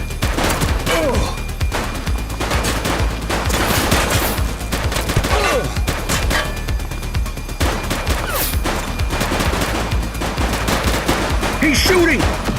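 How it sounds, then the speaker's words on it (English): A dense, continuous exchange of gunfire during a police shootout in The Precinct, with overlapping rapid shots and automatic bursts rattling loudly through the whole passage. "He's shooting!"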